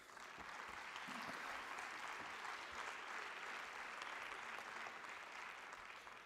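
Conference audience applauding, a dense steady wash of many hands clapping, sustained and even throughout with no voices on top.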